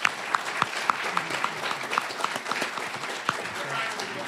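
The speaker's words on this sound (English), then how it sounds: "Let's give a nice round of applause to this panel." Audience at an energy conference applauding a panel, a dense close wash of clapping with a few sharper individual claps throughout.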